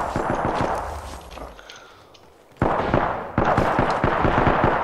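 Repeated Peacekeeper shotgun blasts and rapid gunfire bursts in an Apex Legends match, loud and dense, with a brief lull before the shooting resumes.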